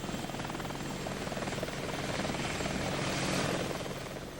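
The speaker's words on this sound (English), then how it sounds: "Its Apache gunships had been training for months." Apache helicopter gunships in flight, a continuous rotor thrum with rhythmic blade chop that swells slightly toward the end, loud and fairly close, with no talk over it.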